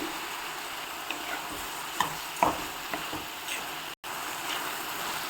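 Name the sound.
tomatoes frying in oil with salt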